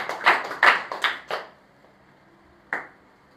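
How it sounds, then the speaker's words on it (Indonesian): A church congregation claps together in a few sharp, loud, evenly spaced claps, then stops, leaving near silence before one last isolated clap. "Beri tepuk tangan terbaik buat Tuhan Yesus."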